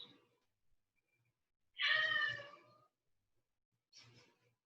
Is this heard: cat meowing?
yes